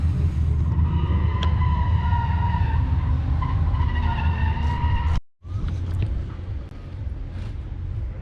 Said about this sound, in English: So let's go watch some drifting.